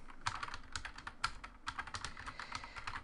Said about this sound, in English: I'm typing really slow and messed up today.